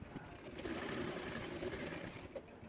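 A sewing machine runs in a steady, fast whirring stitch as a zipper is sewn onto the fabric of a sound box cover, heard fairly close and continuous with slight variations in speed.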